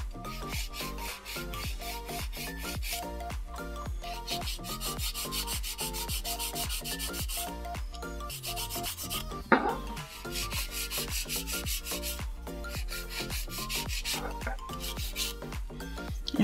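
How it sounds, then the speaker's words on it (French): A nail file works along a fingernail's edges during a manicure, producing a quick, even rhythm of close, scratchy rasping strokes that continues steadily throughout, with one brief louder knock midway. "on va pouvoir donc procéder au limage de l'ongle"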